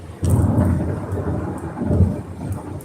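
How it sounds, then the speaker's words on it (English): Thunder rumbles heavily over steady rain while riding in a car on the freeway, with two deep swells of thunder close together and raindrops pattering throughout. "Y'all, it's raining."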